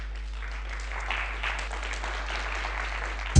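Faint applause from a quiz show audience sending off a finalist, a soft steady patter of clapping over a low hum for a few seconds.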